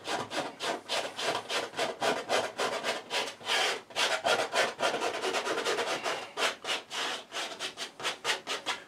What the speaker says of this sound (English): so I've just scraped off the colour